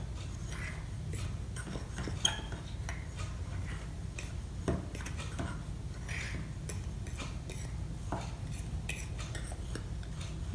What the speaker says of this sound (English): Now you can mix all the ingredients together in your mug